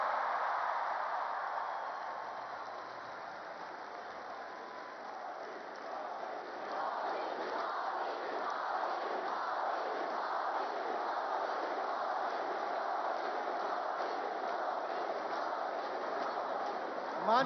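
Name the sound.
crowd chanting Modi Modi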